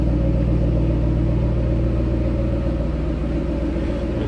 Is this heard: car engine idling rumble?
yes